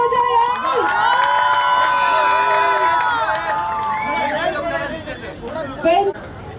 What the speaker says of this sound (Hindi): दादा एक बार जोरदार तालियां हो जाए